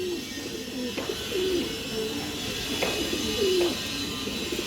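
Repeated soft, low pigeon coos from a bird of the Chua Chandan type, several calls spaced through the stretch against a faint steady background, no talking.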